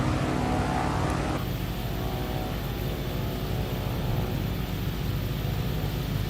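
A steady, loud engine drone from a Wilga 35/80 aircraft in a flight simulator fills the scene, shifting after a moment into a broad, continuous roar as it takes off.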